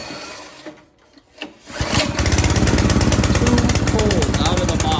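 Brand-new replacement engine on a rear tine tiller starting after pull-cord pulls: a few faint pulls, then the engine catches and settles into a loud, steady, rapid putter.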